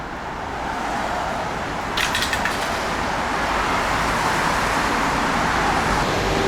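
Steady roar of car traffic passing beneath an expressway in Seoul, a continuous broadband wash of road noise with a brief rattling burst partway through, no speech.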